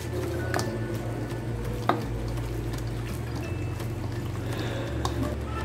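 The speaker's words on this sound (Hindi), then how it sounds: "2 टेबलस्पून विनीगर भी ऐड करेंगे और इनको अच्छी तरह मिक्स कर लेंगे" Chicken is mixed by hand with spices and vinegar marinade, giving soft wet squishing and sloshing at a steady close level with a few small clicks and no talk.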